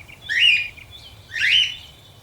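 Two separate bird calls in the Amazon forest at dusk, each a bright rising-falling chirp close together, moderately loud over quiet background with no talking.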